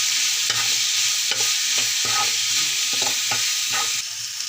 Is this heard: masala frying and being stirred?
yes